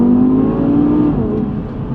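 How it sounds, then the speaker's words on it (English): A 2019 Audi TT RS engine holds a loud, close, steady revving tone with a slight pitch dip near the end, heard alone without any talking. "The noise is incredible. Can't get enough of the noise of this car."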